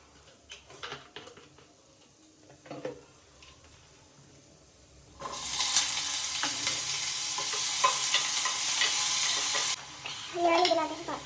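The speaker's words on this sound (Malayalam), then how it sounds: "ഇനി ജസ്റ്റ് ഒന്ന് എണ്ണ ഒഴിച്ചിട്ടൊന്ന് ചെറുതായിട്ടൊന്ന് ഷാലോ ഫ്രൈ ചെയ്തെടുക്കാം." Paneer cubes shallow-fry in oil for Hyderabadi paneer: quiet clicks and stirring at first, then a loud, even sizzle bursts in and holds for several seconds before cutting off into more close clatter.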